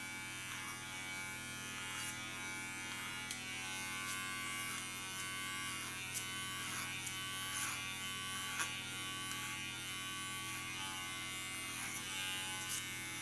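An electric hair clipper buzzes steadily at close range while cutting hair through a comb, with its hum catching in brief repeated bursts as it bites into the hair.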